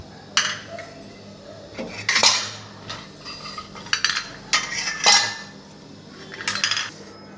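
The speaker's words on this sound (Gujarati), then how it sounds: "હવે આ ગરમ થઈ જાય પછી આપણે અંદર આ ઇડલીના સ્ટેન્ડ મૂકીશું" Metal idli stands clink and clatter against a steel pot in a kitchen in a few separate sharp bursts, with quiet gaps between the knocks.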